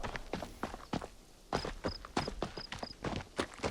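Horse hooves in Assassin's Creed Shadows, a series of clip-clop footfalls in uneven bursts with short pauses, fairly close and clear, joined by a few brief high chimes partway through.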